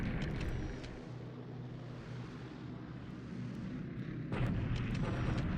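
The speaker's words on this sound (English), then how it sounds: "Chinese bombing begins." Bombing explosions in the War in the Pacific strategy game rumble as a deep, sustained roar, easing briefly then swelling louder again near the end, with faint scattered crackles above and no voices.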